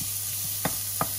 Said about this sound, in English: Get that in the oil there, just to start releasing its flavour